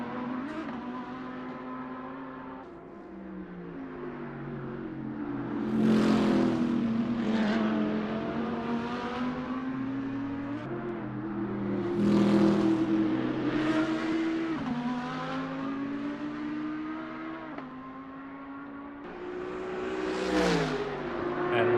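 Race cars dicing at the Nürburgring 24 Hours, engines revving and shifting through gears as they pass close by in a continuous loud drone, with rising and falling pitch and several gear-change surges.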